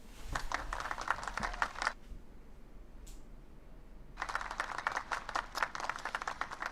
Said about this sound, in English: let's give a big round of applause to the entire faculty and staff that made this possible.